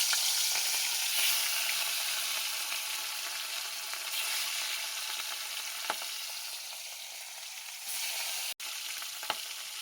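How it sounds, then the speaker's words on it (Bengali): Pieces of cut pona fish frying in hot oil give a continuous, even sizzle at close range. A few faint clicks cut through it, and no voices are heard. "কালকের মাছ এনেছিলাম, কাটাপোনা মাছ দেখিয়েছিলাম, সেই মাছটা এখন ভাজবো।"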